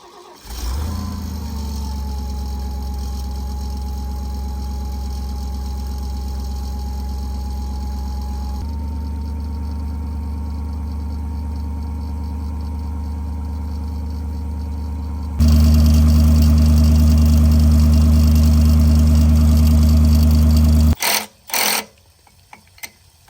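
An old V8 engine cranks, catches and settles into a steady idle, then runs at a higher, louder pitch before cutting out with a few sputters, close by.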